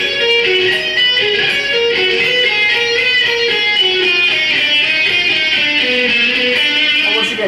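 Slow two-string arpeggios on an electric guitar with a bright, singing lead tone, notes held and overlapping in an even, unhurried pattern, loud and close with no talking.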